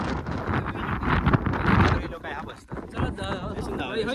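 Strong gusty wind buffets the microphone in a Konkan outdoor setting, roaring steadily throughout with surges, while a person talks over it.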